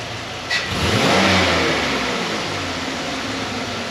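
A car engine gets a sharp snap of the throttle, surging to a loud rev and then sliding back toward idle, heard close and alone.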